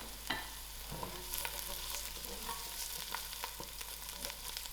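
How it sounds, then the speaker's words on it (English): Sliced garlic frying with golden-brown onions in a pot, a steady soft sizzle with a few light clicks of stirring throughout. "My onions are just turning to a lovely golden brown. Just going to add in my garlic"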